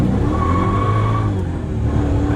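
A Mercedes E55 AMG pulls hard, its engine a loud, close, continuous roar climbing steadily through a quick burst of acceleration.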